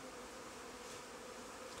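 Honeybees from a freshly caught swarm buzz inside a hive, a steady, dense hum that stays even and fairly faint throughout with no voices.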